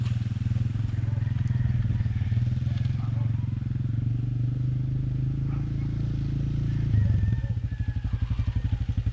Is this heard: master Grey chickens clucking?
no